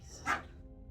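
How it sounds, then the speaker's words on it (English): A dog playing in the background gives a single short bark, faint and distant, with a quiet room around it. "The dogs are playing in the background."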